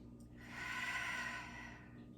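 A single slow, deep breath during a slow, mindful yoga flow, rising to a soft airy peak and easing away, close and quiet with no talking.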